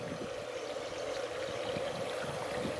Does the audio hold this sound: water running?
yes